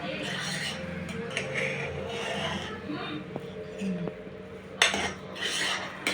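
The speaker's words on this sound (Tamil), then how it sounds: "இப்போ நல்லா கிண்டி விட்டுக்கலாம்." Spoon scrapes and clinks against a metal pot as thick thinai (foxtail millet) pongal is stirred, close and steady, with a few sharper knocks.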